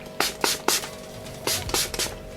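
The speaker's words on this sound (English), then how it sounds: "Next I'm gonna be going in with my Kiki Beauty Rose Juice Setting Spray." Kiki Beauty Rose Juice setting spray misted onto a face, seven short hissing bursts from a pump bottle, three quick ones then a pause and four more, close and crisp.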